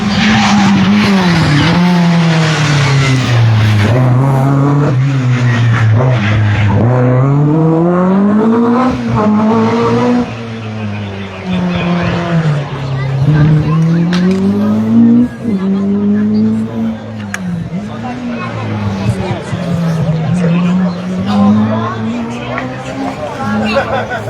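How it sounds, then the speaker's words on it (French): A Ford MK2 rally car revs and passes on a special stage at the Rallye National des Bornes in La Roche-sur-Foron. Its engine note rises and falls through gear changes, heard from a distance at first, while a commentator talks over it and a crowd murmurs. "c'est la Ford MK2 qu'on entend au loin avec Stéphane Portigliatti associé à Valenti"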